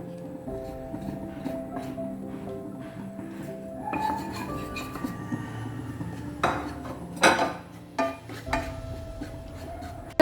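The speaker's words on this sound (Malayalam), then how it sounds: "പൊടികളെല്ലാം ഒന്ന് വറുത്തെടുക്കണം" Spice powders roast in a pan for sambar, stirred with a metal spoon that scrapes and clinks against the pan in irregular strokes, with a few louder knocks near the end and no talking.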